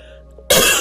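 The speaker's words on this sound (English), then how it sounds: "I have a coughing fit" After near silence, a person gives one sudden, harsh, close cough that rings on briefly.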